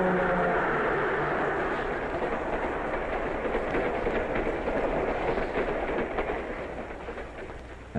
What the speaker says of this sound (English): The train is passing under a safe highway crossing built above the tracks.